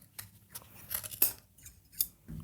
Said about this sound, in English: Take my scissors and on the opposite end, I'm going to trim.